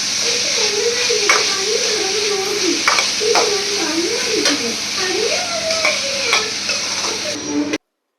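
Capsicum and vegetables sizzle steadily in a pan for pasta, with repeated scraping stirs of a spatula sounding close and continuous throughout, and a voice heard faintly beneath.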